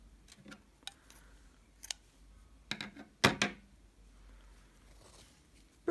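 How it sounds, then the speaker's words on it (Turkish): Scissors snip through crochet yarn close by on a baby vest, a few small clicks and handling ticks followed by one louder, sharp double cut in an otherwise quiet room. "İpi burada kesiyorum."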